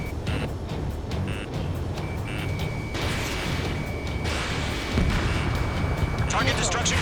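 A missile strikes and destroys a target in Ace Combat 7: Skies Unknown, with a loud booming explosion amid continuous jet engine roar, a lock-on warning tone, and radio chatter over the top.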